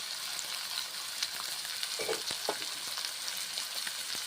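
Mung dal tips into hot oil in a frying pan for a vegetarian paneer dish, giving a steady close hiss of frying with a few louder crackles and stirring scrapes near the middle.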